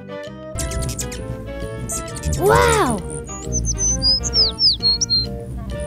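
Cartoon birds chirp and tweet around a birdhouse in a tree, bright rapid calls rising near the end over light music, with a voice exclaiming briefly in the middle.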